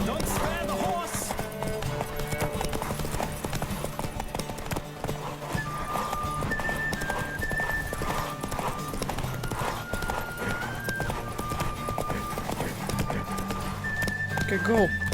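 A horse gallops hard through a race in The Witcher 3, continuous drumming hoofbeats with an occasional whinny, heard under talking characters and ambient game music.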